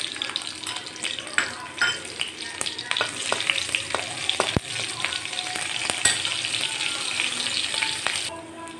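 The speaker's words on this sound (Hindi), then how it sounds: "हमारे तेल गरम हो गई, उसमें डालेंगे पंचफोड़न," Panch phoron, asafoetida and green chilli crackle and sizzle loudly as a tempering in hot oil, with sharp popping bursts and a spoon clattering against the pan.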